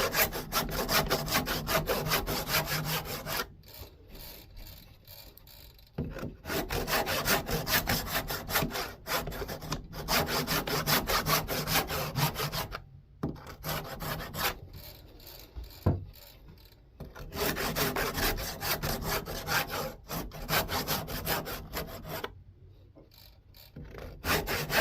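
Handsaw cutting through wood for a double barley twist candle stick holder, steady back-and-forth strokes in long runs broken by brief pauses, close and fairly loud with no voices.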